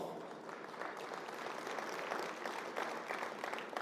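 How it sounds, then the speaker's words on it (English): Applause from a conference audience at a city summit in Salt Lake City, a steady stream of clapping from a sizeable crowd, fairly distant, swelling slightly over a few seconds. "That deserves applause."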